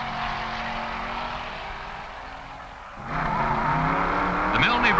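A 1958 Pontiac stock automatic drag races down the strip at the NHRA Winternationals, its engine droning steadily, then a louder, rising roar cuts in about halfway through as the car launches and pulls away.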